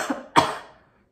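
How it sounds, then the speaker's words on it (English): Two coughs close up, a softer one and then a sharper, louder one that trails away into silence, each muffled as if made into the crook of an elbow. "cough into the elbow, and keep covered until this is all done"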